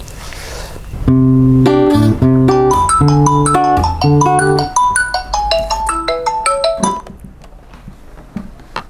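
A mobile phone plays a bright, melodic ringtone while a call is placed, loud and close, with repeated chiming notes that fade into softer, scattered tones near the end. No one speaks.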